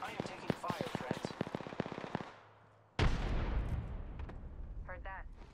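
Gunfire in the Apex Legends battle royale game: a rapid burst of sharp shots, a brief lull, then a loud blast followed by rumbling, with a voice speaking over it.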